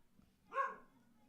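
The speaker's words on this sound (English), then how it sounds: "I don't know what my dog is barking at." A single short, faint dog bark sounding at a distance in a quiet room.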